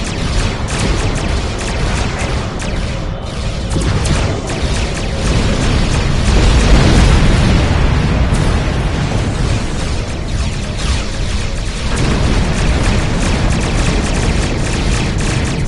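Weapons fire and explosions from the Star Trek Online space combat game, a dense, loud, continuous barrage of booms and bursts with rumbling swells throughout.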